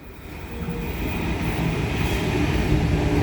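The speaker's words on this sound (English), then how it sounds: "here's a T-set for our Waterfall service" A Sydney Trains T-set electric train approaches Hurstville station, its rumbling roar building steadily louder and closer throughout.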